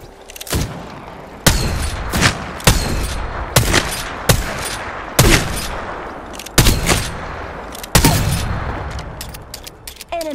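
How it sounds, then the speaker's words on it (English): Video game gunfire: a dozen or so sharp, loud shots in irregular bursts, each with a short decaying tail, close and dominant with almost no speech. "Listen up, I'm getting shot at."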